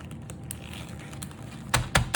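Ritz crackers crinkle inside a plastic bag in a home kitchen, light rustles building to a few sharp, louder crackles near the end, close and alone.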